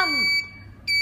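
A foot bath spa machine sounds its alarm, two loud, piercing electronic beeps separated by a brief pause, close up with a low background hum and no voices.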